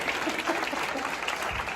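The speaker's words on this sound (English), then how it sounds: "can we please give all four of them a big round of applause" A short burst of audience applause from a room of people at a live business mentoring session, a steady wash of many hands clapping at moderate distance.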